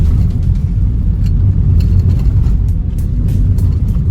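A car coasts downhill in B gear with engine braking on a curving road toward a hilltop temple. The engine and road rumble is steady, low and close, with no voices.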